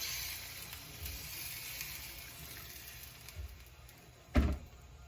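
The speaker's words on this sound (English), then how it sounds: "I'm going to add like 4 cups of water to my oxtail" Four cups of water pour into a pot of browned oxtail for a Jamaican stew, a faint, steady hiss of liquid with a soft clunk near the end.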